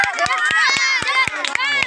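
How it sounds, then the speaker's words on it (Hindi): A group claps in a steady, rhythmic beat for Kajal at a physical assessment session, roughly four claps per second, with lively voices and chatter running over the clapping throughout. "काजल का नाम लेके एक बार तालियां बजा दो"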